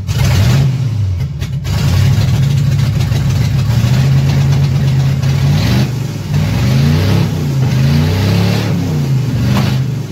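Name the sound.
car engine idling while warming up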